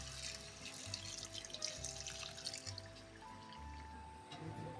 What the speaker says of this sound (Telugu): ఇప్పుడు మనం వాటర్ని యాడ్ చేసుకుందాం